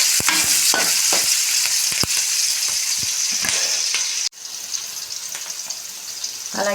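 Semiya upma ingredients (green chilies, curry leaves and salt) crackle loudly in a hot pan as they are stirred, with sharp spoon knocks scattered through the hiss; a brief dip midway leaves a quieter sizzle.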